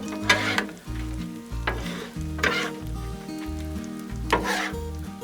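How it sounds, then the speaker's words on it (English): Eggs, peppers and bacon sizzle loudly on a Blackstone griddle while a spatula scrapes and stirs them in repeated strokes, with a steady frying hiss underneath and no talk. "Let's bring some bacon into it."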